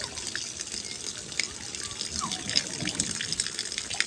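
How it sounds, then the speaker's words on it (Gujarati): Floodwater rushes steadily after a heavy rainstorm in a Gujarat village, a continuous faint gushing wash with small splashes, heard from a short distance. "ખતરનાક પાણી જાય"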